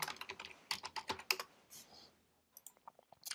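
Fingers type on a computer keyboard nearby, with quick bursts of crisp keystroke clicks, a short pause, then a few more taps.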